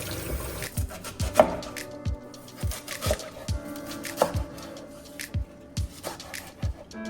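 Spring onions are chopped on a board for kimchi: a steady series of sharp knife thuds about twice a second, close and clear, with faint watery background sounds and no talking.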